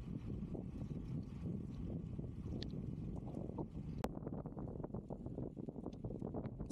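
Steady wind rushing against the microphone while riding a bicycle on a cycle track, a continuous low buffeting that holds level throughout with no voices.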